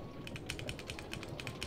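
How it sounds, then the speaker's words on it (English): Rapid clicky keystrokes on a computer keyboard, close and fairly quiet, in an irregular rhythm of about a dozen presses, with no voices. "You can hear my keyboard."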